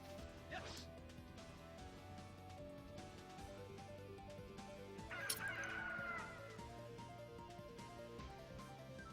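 A chicken monster in the Legend of Dragoon video game clucks and crows in a burst of fowl cries, with a sharp crash midway, layered over constant game music and effects.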